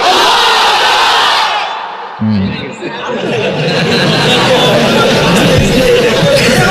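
A large crowd at an Islamic sermon gathering roars a takbir chant in unison, loud and sustained, briefly dipping before swelling back into a continuous massed shout.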